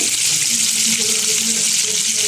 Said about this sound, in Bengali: এখন আমাদের ফ্রাই চলছে